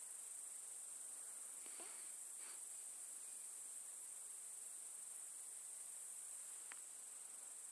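Grasshoppers chirp in a forest on a still, hot evening, a continuous high, thin drone held at an even level, with a couple of faint brief sounds passing underneath.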